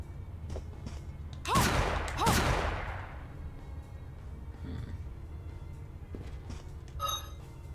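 A gun fires twice in the video game Bloodstained: Ritual of the Night, two heavy booming shots close together with a fading tail, followed by quieter game effects.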